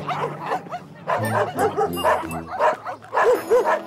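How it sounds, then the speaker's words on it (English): Cartoon dogs yip and bark repeatedly inside a building full of dogs, a busy chorus of overlapping bow-wows and whimpers close by, with some voices mixed in. "I'm actually walking into a building full of dogs, voluntarily."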